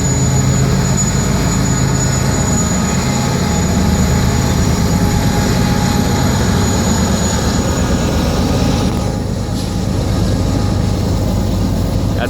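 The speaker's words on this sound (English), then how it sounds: "I wanted to see a train go over this bridge." A BNSF train crossing the trestle bridge at Mullan Pass, Montana, produces a steady, loud, continuous rumble of rolling railcars that lasts the whole time, with no talk.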